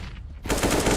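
AK rifle fire in the video game CS:GO comes as a sudden rapid automatic burst after a brief quieter moment, loud and continuous to the end.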